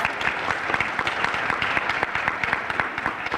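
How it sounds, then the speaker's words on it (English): At a high school academic recognition ceremony, the audience applauds the guidance counselors with an even, moderately distant wash of many hands clapping, steady and unbroken for a few seconds. "let's please give our wonderful guidance counselors a round of applause"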